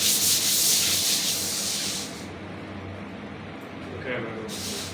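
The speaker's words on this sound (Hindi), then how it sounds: "अच्छा रेगमाल का नंबर जिस तरह ऊपर जाता जाता है वो पतला होता जाता है" Sandpaper rubbed by hand in steady, scratchy strokes, loud for the first two seconds, then quieter with a brief return near the end, alongside people talking.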